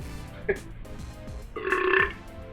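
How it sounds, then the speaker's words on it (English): A man lets out a single fairly loud, drawn-out burp during a casual sports podcast, preceded by a short throaty sound. "First burp of the podcast, and it was a pretty decent one."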